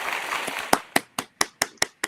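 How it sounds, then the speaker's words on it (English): A small group clapping together in a live broadcast studio, a few scattered claps first and then seven sharp, evenly spaced hand claps, close and clear with no talk. "we're going to give ourselves a round of applause"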